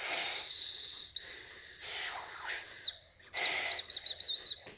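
A shrill, high-pitched edible candy whistle is blown in a long steady note, then several short warbling toots after a pause.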